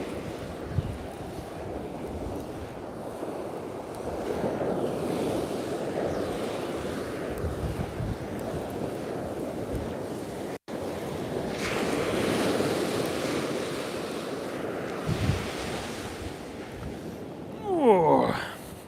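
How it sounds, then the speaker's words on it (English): Big ocean swell breaking on the shore at Walcott Beach at night, a steady broadband roar of surf with surging louder washes, heard alone with wind noise and no talk. "Definitely get some much bigger waves."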